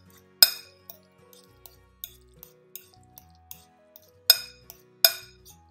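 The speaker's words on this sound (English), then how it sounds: "mix that up well with my avocado and my" Guacamole being stirred in a bowl with avocado, onion and tomato, giving a handful of sharp separate clinks of a utensil against the bowl, spaced irregularly with quiet between them.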